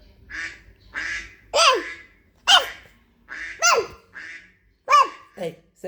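A voice imitates a duck, giving a series of about eight nasal, honking quacks spaced roughly evenly, loud and close, with brief pauses between calls.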